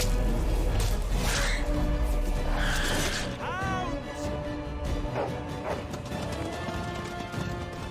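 Dogs yelping and whimpering in a loud Dragon Age Origins cutscene, short high cries and barks over a dense, constant game soundscape with clattering and rumble throughout.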